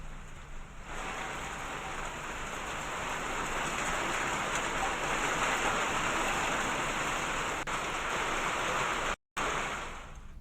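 Heavy rain falling in the Uttarkashi mountains of Uttarakhand, a loud steady hiss of downpour on surfaces that continues without letup through the clip, with a brief dropout near the end.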